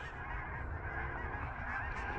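Wild Canada geese honk loudly and continuously during a December goose hunt, with overlapping nasal calls from a flock close by filling the whole stretch.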